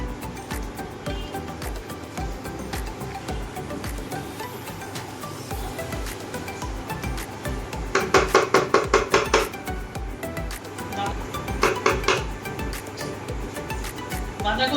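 Cabbage curry being mixed in a pan with ghee and garam masala, brisk bursts of metal spatula scraping and clattering against the pan over a steady kitchen background, the busiest stretch in the middle and a shorter burst later.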